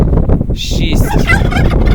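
Turkeys gobble loudly and close by in a farmyard, a rapid, warbling burst of calls repeated across the moment with no voices.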